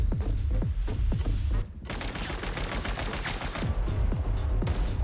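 Gunfire from the video game Genshin Impact: rapid repeated shots in a dense fusillade, loud and close, with a brief break before the firing resumes.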